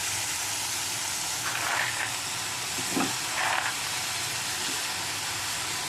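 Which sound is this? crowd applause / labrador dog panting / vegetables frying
vegetables frying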